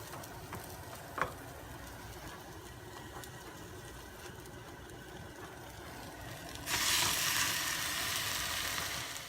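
Meat dropped into a pan of browned frying onions, a steady low sizzle that suddenly swells into a louder, brighter hiss partway through, with a brief clink early on and no talking.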